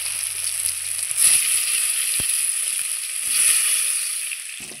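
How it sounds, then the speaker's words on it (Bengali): Boiled potatoes coated with salt and turmeric fry in oil, a steady close hiss of sizzling that swells twice, with a few soft clicks and taps of a utensil. "এবার ওই তেলেই আমি আলুগুলো ছেড়ে দিচ্ছি।"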